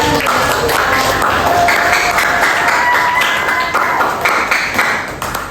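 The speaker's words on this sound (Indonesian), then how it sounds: "Oke, tepuk tangan" A class of students in a microteaching lesson claps together on cue, a dense, fairly loud patter of clapping that carries on steadily and tapers near the end.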